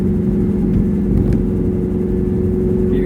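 A lowered blue Suzuki Espass in racing mode gives a steady, fairly loud engine drone with a low hum, heard from inside the car. There is no talk, and the tone barely changes.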